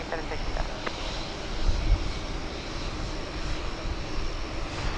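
An airliner takes off from a runway at DFW Airport, heard as a broad, steady roar of engine rumble. Voices speak over the noise.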